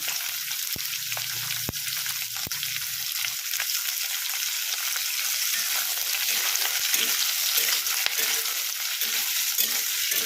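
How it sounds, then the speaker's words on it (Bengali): Chopped onion and capsicum frying in a pan for chilli soya, a steady close sizzle with a few sharp clicks and stirring scrapes near the start. "কুচিয়ে রাখা পেঁয়াজ আর ক্যাপসিকামটাও আমি দিয়ে দিচ্ছি"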